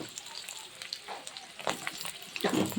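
Pumpkin, taro and eggplant, winter vegetables for a spinach dish, fry in a pan with a soft, crackling sizzle, close but quiet, with a louder burst of spatter near the end.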